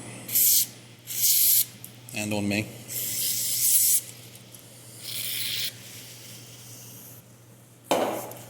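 Several short, loud hissing bursts of aerosol brake cleaner spraying close by in a shop, with a brief voice in the middle and a final sharp burst near the end.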